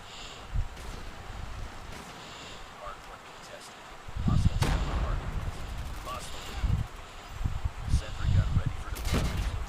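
Gunfire in Call of Duty Mobile, sniper shots included, comes as several sharp bursts over a noisy game background, while a voice talks in between.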